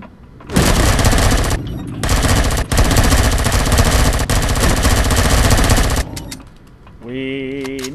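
Loud sustained automatic weapon fire in the survival game Empyrion, with long continuous bursts broken by brief pauses, followed by a voice speaking at the end.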